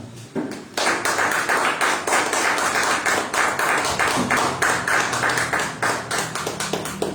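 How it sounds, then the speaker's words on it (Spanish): A church congregation claps for the Lord during a Friday teaching service, loud, close and sustained, with sharp strikes in an even rhythm after a brief quiet start. "Denle un aplauso al Señor."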